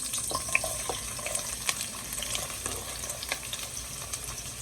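Onions fry in a pot for Haitian okra soup, a faint, soft sizzle with scattered light crackles and small clinks, heard alone.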